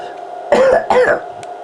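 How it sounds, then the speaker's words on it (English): Two quick, harsh coughs burst out close by, one right after the other, followed by a faint breathy pause, at an outdoor fun day with a circus train. "I'm just having a coughing fit there"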